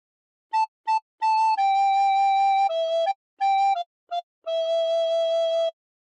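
Recorder playing a phrase of How Great Thou Art, a clear, pure breathy tone in a short melody of separate notes, some brief and some held, played alone and close.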